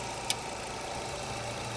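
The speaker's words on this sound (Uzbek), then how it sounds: "Mashinamiz gazga o'tdi. Motorda ovozlar o'zgardi." A car engine idles on methane gas just after being switched over from petrol, a steady, close, even hum with one brief click near the start and no talk.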